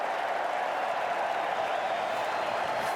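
Cricket crowd at an Ashes Test match during a fast Gilchrist century, a steady broad roar of cheering and applause sustained throughout without a break.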